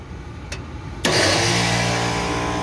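A 1990s Trane package HVAC unit kicks into first-stage cooling with a sudden loud start, then settles into a steady, rough mechanical drone with sustained hum, following a brief click.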